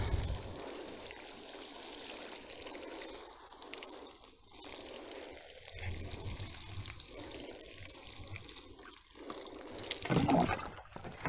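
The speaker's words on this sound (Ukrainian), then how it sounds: "Знову так і пролью. І водичка її сама і заб'є." Water is poured gently over freshly sown garden soil, giving a soft, continuous trickle and splash that swells slightly toward the end; faint and close, with no talk.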